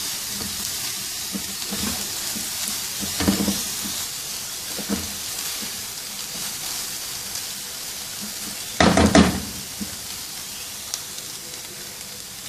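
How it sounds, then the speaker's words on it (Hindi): Finely chopped spring onion cooks in a pan with a soft, continuous sizzle, broken by a few stirring scrapes and one brief louder burst of hiss partway through. "1 प्याली बारीक कटा हुआ सब्ज़ प्याज, दो मिनट पकाएंगे इसको।"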